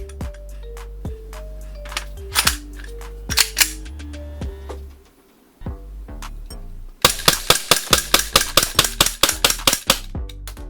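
A Kizuna Works KW-15K gas airsoft pistol fires BBs: a few scattered sharp cracks with clicking between them, then a fast, loud string of evenly spaced shots close by.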